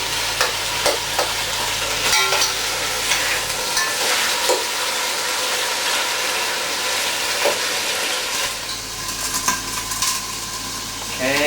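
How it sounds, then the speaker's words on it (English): Meat for Haitian chicken sauce fries loudly in a pot, a steady sizzle broken by scraping and clacking as it is stirred regularly, with no voices. "keep stirring it regularly so it doesn't get burned, and so that it gets an even coloring"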